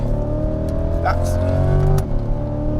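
A Chevrolet Corvette C8 engine eases as the driver lifts off the throttle, a loud steady drone with falling pitch toward the end, heard under continuous talking.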